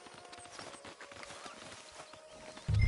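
A horse in Red Dead Redemption 2 walks along with soft, steady clip-clop hooves, faint and rhythmic, ending in a sudden louder thump.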